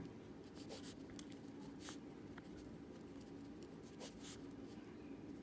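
A pen scratches across paper as a maths theorem is written out by hand, a quiet, steady run of short strokes and taps heard up close, with no talking.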